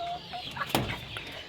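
A Surma-coloured rooster on a rooftop farm gives a few short, close clucks, with one sharper burst in the middle of the run.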